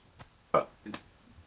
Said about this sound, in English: Don't mind me, I burp from time to time.